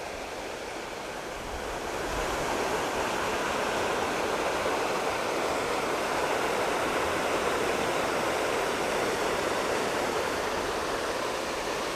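Water pouring over a small dam about two and a half feet high, a steady broadband rushing roar, continuous and fairly close, with no voices.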